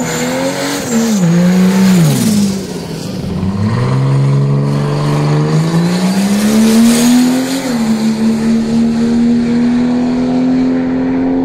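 Holden wagon powered by a turbocharged Ford Barra BA engine on slick tyres, loud and close, revving and dipping between gears before a long rising pull under hard acceleration, with tyre noise throughout.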